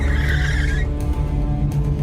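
A car brakes hard and skids, a sustained tire squeal over a low engine rumble, loud and close, with no voices.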